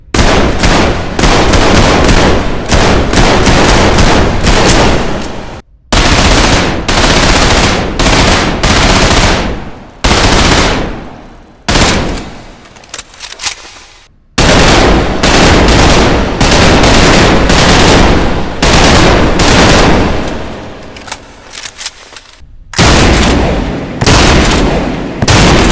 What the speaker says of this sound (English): listen to this, it's like ASMR with guns.